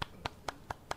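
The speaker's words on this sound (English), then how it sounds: "Is that you clapping?" One person clapping hands at a table, five sharp, evenly spaced claps in quick succession, close and distinct against a quiet background.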